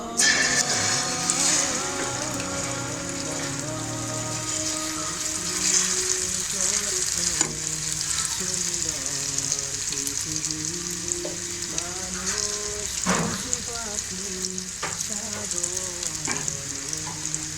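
Omelette batter made with flour sizzles in a hot pan for a cheese omelette, a steady loud frying hiss throughout with occasional clinks and scraping, no voices.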